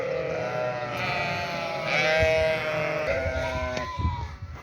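Several sheep bleat loudly and close by as they are let out of the pen, overlapping calls rising and falling over a noisy outdoor background.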